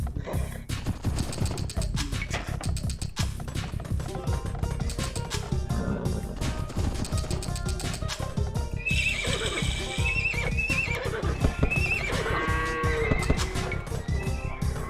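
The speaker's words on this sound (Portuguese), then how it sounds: "Fazer cavalo, basicamente." Horses in Age of Empires 2 neighing and whinnying repeatedly over a dense, steady patter of clip-clopping hooves, loud and busy throughout the battle with no speech.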